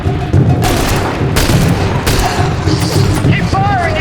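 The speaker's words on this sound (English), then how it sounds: "Keep firing!" Rapid gunfire and booming blasts from a firefight in The Bureau: XCOM Declassified fill the space continuously, with loud, dense volleys and shouted voices over the top.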